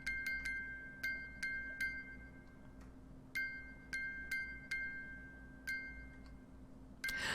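A telegraph chimes in a video game, a faint series of sharp high metallic clicks in irregular groups of short and longer taps over a quiet steady hum.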